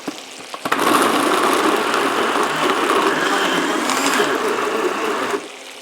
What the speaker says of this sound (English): what I'm going to do is pop that into my food processor